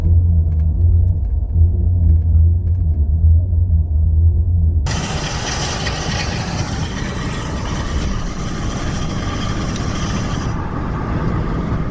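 A steady low rumble of a Ford F-150 truck in motion, then a louder, broader grinding front-end noise while braking and decelerating takes over midway and continues to the end; the fault involves the IWE.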